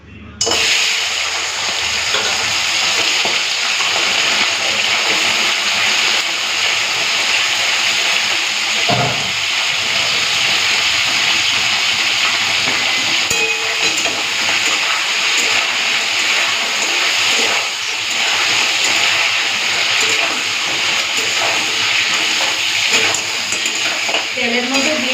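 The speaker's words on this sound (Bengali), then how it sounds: "তো তেলটা গরম হয়ে গেছে, এখন এটা দিয়ে দিচ্ছি ঠ্যাংগুলো।" Crab legs dropped into hot oil sizzle with a loud, continuous frying hiss that stays close and even for about twenty-five seconds, with a few faint clinks and stirring sounds.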